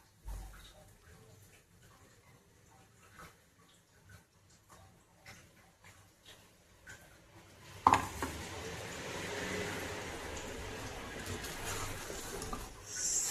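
Ground peanuts being stirred into sago khichdi in a pan, a dense scraping and rustling that swells loudly in the second half after a quieter stretch with faint clinks.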